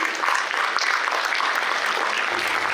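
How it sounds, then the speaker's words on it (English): Audience applause at a memorial service honoring a lifetime service award, dense and sustained, loud and close throughout with no talk over it. "A round of applause, please."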